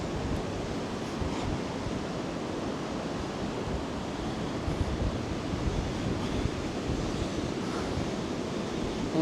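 Sea waves roll onto the shore at Filey beach, a steady, dense wash of surf and wind that stays loud and even throughout, with no voices.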